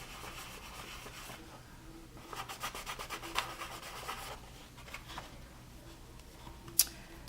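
Polishing papers rubbed over a polymer clay pendant in circular motions, close and quiet, with soft rhythmic swishing strokes that build into a busier burst midway, then ease off before one sharp tap.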